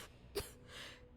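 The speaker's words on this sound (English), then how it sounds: "That cough doesn't sound good at all." A character in Starfield gives one short, faint cough, a single dry burst alone in a quiet scene.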